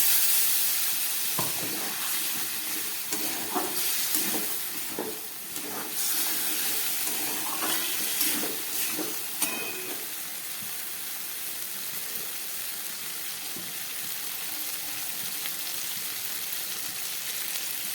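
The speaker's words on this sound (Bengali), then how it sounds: "এবার দিয়ে দিচ্ছি একটু মশলা ধোয়া" Water used to rinse spices hits a hot frying pan of potato curry, giving a soft, steady sizzle with scattered clinks and stirring knocks in the first ten seconds, then a quieter continuous hiss.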